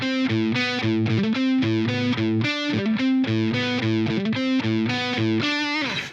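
Distorted electric guitar played through a Line 6 Helix with a heavy tone, a chugging riff of choppy, palm-muted notes and short bursts, loud and continuous without speech.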